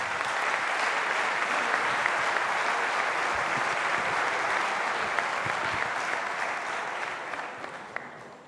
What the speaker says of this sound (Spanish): le pedimos un aplauso para el padre